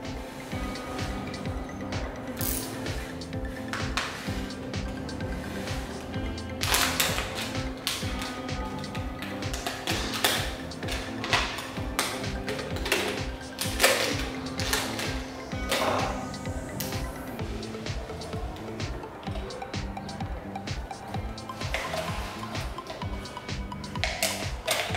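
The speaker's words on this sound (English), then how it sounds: "cut the unused part of the bottle using cutter" A cutter slices through a plastic bottle with irregular taps, clicks and scraping crackles spread across the whole stretch, close and moderately loud, over a faint steady hum.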